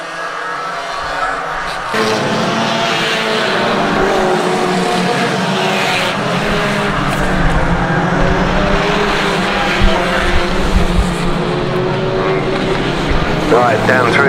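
Race cars at Swaffham Raceway howl loudly through the pits turn in a close pack, engines roaring and overlapping with occasional tyre noise, while a commentator talks over the racing.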